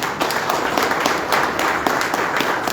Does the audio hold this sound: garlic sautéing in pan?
no